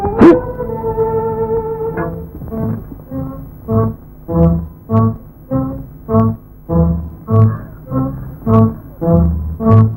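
Dogs bark in a steady, rhythmic series of about a dozen loud, close barks after a brief whine at the start, from an old Telugu comedy film, with no talk over them.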